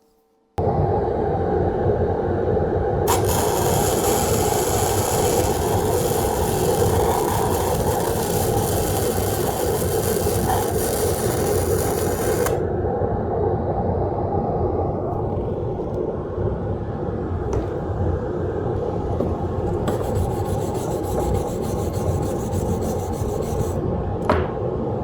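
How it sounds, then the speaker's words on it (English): Gasless flux-core MIG welding arc on metal, a loud, steady, violent crackling rasp that runs continuously for the whole stretch, with harsh hissy bursts layered on at times and no talking. "when I'm gasless flux core welding, it's a very violent arc"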